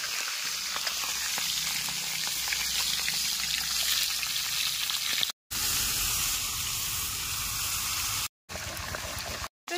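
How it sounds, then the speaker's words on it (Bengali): A catla fish head frying in hot oil in a kadai with salt and turmeric, a steady, loud, hissing sizzle with crackling spatter that runs continuously, broken by a couple of brief silent gaps. "আমি প্লেন নুন হলুদ দিয়ে ভেজে নিচ্ছি।"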